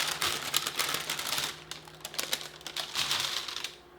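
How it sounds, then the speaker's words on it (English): Pie weight beans and parchment paper come off a baked pie crust, making a rapid rattling clatter of dried beans and papery crinkling in busy bursts, close and fairly loud, then trailing off at the end. "let's remove our beans and parchment paper"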